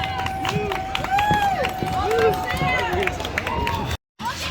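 Spectators lining the route of the Disney marathon near Epcot cheer runners on, a steady roar of voices and whoops with footsteps and a persistent tone close by, briefly cut out near the end.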